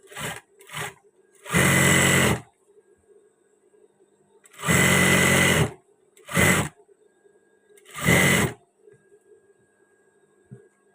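A sewing machine stitches the hem of a short batik shirt sleeve in four or five close, loud bursts of motor whir separated by short pauses, with no talk over them.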